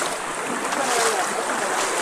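Water rushing steadily at Rapur waterfalls, a broad continuous wash of flow and spray that stays loud and even throughout, with no clear voices over it.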